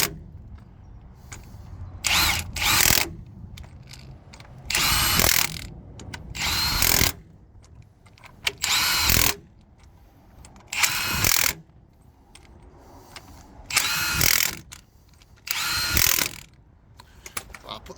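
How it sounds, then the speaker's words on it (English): An impact gun tightens the rear wheel nuts on an HGV during a mobile brake job, firing in about eight separate loud rattling bursts of a second or so each, with quieter pauses between them as it moves from nut to nut. "we'll gun them up, and then we'll make sure they're tight"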